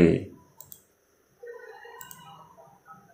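Mouse clicks while choosing a PowerPoint animation, a few sharp near clicks in quick pairs between stretches of someone speaking.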